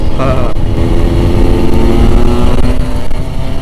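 A Yamaha RX King two-stroke motorcycle rides on a touring run, its engine loud and close with a steady buzzing drone and slight rises in revs, plus heavy wind rumble.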